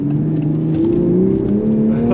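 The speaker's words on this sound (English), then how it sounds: "I'll see how this thing accelerates." 2023 Toyota GR Supra A91-MT Edition engine pulling away from a green light, its tone climbing steadily through the revs, loud and close from inside the cabin.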